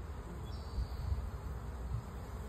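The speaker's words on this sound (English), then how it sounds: "There's like a little bumblebee that thinks it wants to be a honeybee." Honeybees buzz at a hive entrance while a bumblebee tries to get in past the guards, a steady low drone close by with no voices.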